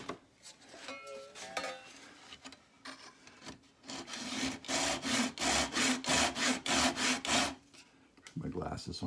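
A hand saw cuts into a wooden guitar neck during a neck reset, with a brief fumbling start and then a steady run of about a dozen rhythmic, loud back-and-forth strokes, close up, ending in a short pause and a final rasp.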